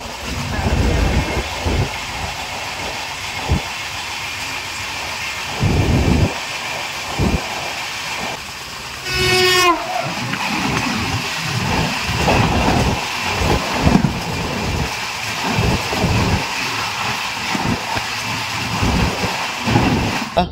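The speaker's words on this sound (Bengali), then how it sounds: "সামনে থেকে আসছে 15658 ব্রহ্মপুত্র মেল, যেটা আসছে নিউ দিল্লি জংশন থেকে কামাখ্যা পর্যন্ত যাবে।" The 15658 Brahmaputra Mail, running from New Delhi to Kamakhya, rumbles past on the line near Prayagraj, heard from aboard a moving train as a fluctuating rail roar with a brief sharp horn-like burst midway.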